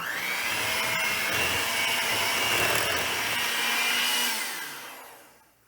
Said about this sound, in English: I'm going to go ahead and use my electric mixer one more time, just to make sure everything's mixed together